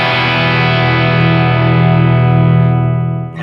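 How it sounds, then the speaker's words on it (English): Electric guitar with a Tom Anderson P90 bridge pickup played through a micro amp with light gain, one sustained, thick open chord ringing loud and close, then cut off at the end. "It's a very open sounding P90. I wouldn't even call it distortion,"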